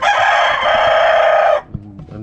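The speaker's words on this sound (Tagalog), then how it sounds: "Mga manok niya, oh." A rooster gives one loud, close crow of about a second and a half. Softer chicken clucks follow in the yard afterward.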